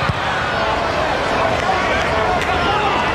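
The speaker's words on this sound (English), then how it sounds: "That's a massive cheer." A stadium crowd at a Newcastle Jets versus Perth Glory football match roars in a steady, dense cheer that fills the whole stretch, with commentary heard over it.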